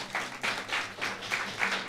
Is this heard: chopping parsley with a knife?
no